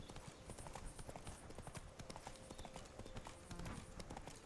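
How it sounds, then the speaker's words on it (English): Horse hooves clip-clopping steadily while riding through the countryside in The Witcher 3 video game, a fast and even rhythm of quiet, close hoofbeats over soft ambient sound. "no, Roach, you're a horse. You should be able to ride through the countryside"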